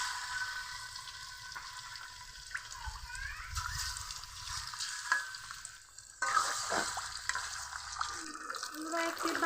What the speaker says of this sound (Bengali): এখন মাছ ভেজে নিব।